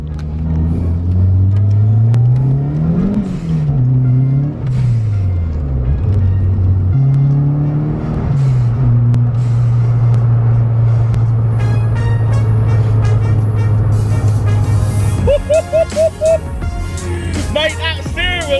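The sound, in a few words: Ford RS Turbo car accelerating with turbo noises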